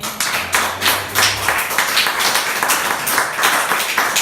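Applause for Christ at a Spanish-language church service, with a crowd clapping steadily and densely throughout, fairly loud and close with no talk over it.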